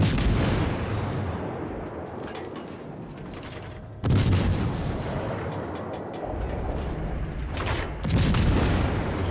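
Heavy naval guns boom in World of Warships: Legends, three big salvos about four seconds apart, each a loud deep blast trailing into a long rumbling decay, with no talk.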